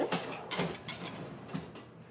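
Dry ingredients for tropical spring cookies, including flour, whisked in a bowl: quick, quiet rhythmic scraping and tapping strokes, close and alone.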